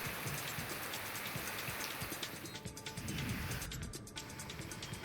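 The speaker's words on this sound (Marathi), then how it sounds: "सकाळपासून पावसाची रिपरिप सुरू आहे" Steady rain falls continuously during a monsoon downpour in Dapoli, Ratnagiri district, a dense, even patter of drops heard alone at moderate level.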